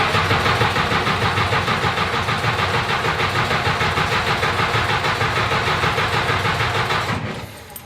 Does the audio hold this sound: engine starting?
yes